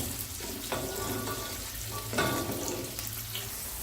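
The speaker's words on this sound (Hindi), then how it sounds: "तो उसमें शामिल करेंगे कटा हुआ प्याज, और प्याज को जो अच्छी तरह वो ब्राउन करेंगे।" Chopped onions fry in hot oil until browning for a chicken biryani, giving a steady close crackling sizzle with a couple of brief louder bursts as they are stirred.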